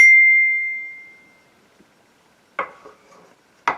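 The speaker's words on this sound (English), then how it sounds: "A glockenspiel plays a musical sound." A single glockenspiel bar struck once, a bright, ringing metallic note that decays over about a second and a half, followed by two faint, brief unrelated knocks.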